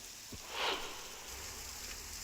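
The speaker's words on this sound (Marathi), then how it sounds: "रत्नागिरीच्या संगमेश्वरमध्ये पावसाने जोर धरलाय" Heavy monsoon rain pours down in Sangameshwar, Ratnagiri, in the Konkan, a dense, steady hiss of falling water with a brief louder swell, heard alone with no talk.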